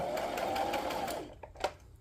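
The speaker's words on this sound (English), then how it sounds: "I have definitely leveled up with my sewing machine" A sewing machine stitches junk journal pieces of sari silk and lace with a rapid, steady mechanical whirr, then slows and stops with a few soft clicks, close and clear.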